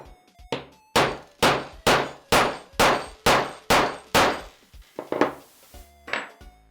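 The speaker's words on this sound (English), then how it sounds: "we'll want to hammer that a couple more times to get that real secure" A hammer strikes a metal spring snap on a thin jacket fabric, a steady series of about ten sharp metallic clanks at an even rhythm, close and loud, ending in a few lighter irregular taps.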